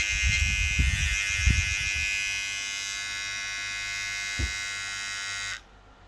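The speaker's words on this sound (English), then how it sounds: "It's really running fast. I like this trimmer." A Kemei 3709 electric hair trimmer runs with a steady high-pitched buzz for over five seconds, fairly close, with a few low thumps of handling early on, then cuts off abruptly near the end.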